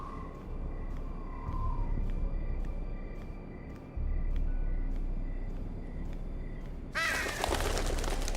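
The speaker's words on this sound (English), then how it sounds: "Fucking birds." Crows caw in a Game of Thrones video game scene, a few calls over a low steady ambient rumble, with a louder burst of harsh noise near the end.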